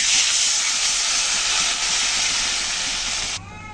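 Water poured into a hot pan of lightly fried green chili for a fish curry, giving a loud, steady sizzling hiss that holds strong, then drops away abruptly near the end.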